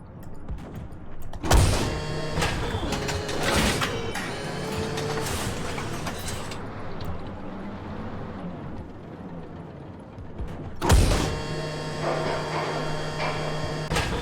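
Mechanical whirring and clunking of a T-72 tank autoloader carousel rotating in a tank game, a steady grinding hum with two sharp metallic clanks marking the start and stop of the long rotation.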